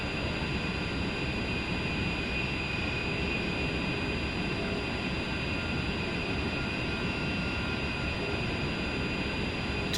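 Steady, unbroken roar of an A-10C's jet engines during a dive in the DCS flight simulator, a broadband whoosh with a faint high whine, constant and close with no talk.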